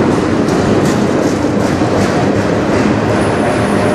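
Freight train rolling past on the CN Strathroy Subdivision, a steady loud roar of wheels and railcars with continuous clickety-clack close by, filling the whole stretch without voices.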